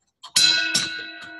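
A bell rung to call closing time in a pub gives a short bright strike, a second ring and a faint third, each leaving a clear ringing tone that fades out.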